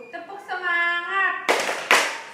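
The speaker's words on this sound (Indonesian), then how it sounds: "sebaiknya kita bertepuk semangat dulu. Tepuk semangat." In a primary school science class, a voice chants with clear tone before the children break into a spirit clap: two loud, sharp bursts of many hands clapping together near the end.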